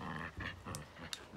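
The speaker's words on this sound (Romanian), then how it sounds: "Mai am acolo un câine de rasă, se aude cum podrogește." A dog pants in quick, breathy puffs close by, a few rhythmic exhalations with faint higher sounds between them.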